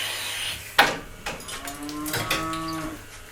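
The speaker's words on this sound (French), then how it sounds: "Alors Daniel, vous avez un cheptel de combien de vaches ?" Dairy cows on a small Ardèche plateau farm moo twice, a short low call followed by a longer drawn-out one, close by against quiet barn background noise.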